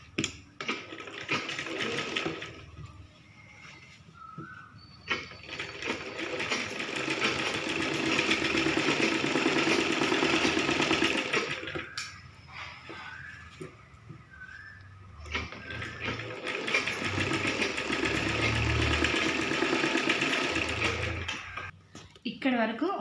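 A sewing machine stitches cloth for a small girl's saree in two long running bursts separated by pauses, with someone talking throughout the stitching and in the gaps.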